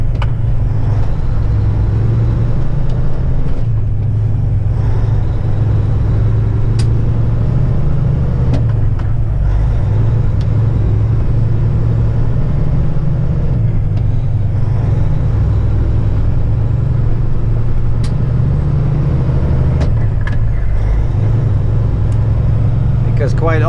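Oversize truck driving in the curb lane through a town in Michigan, a steady loud engine rumble and road drone running throughout with passing traffic noise.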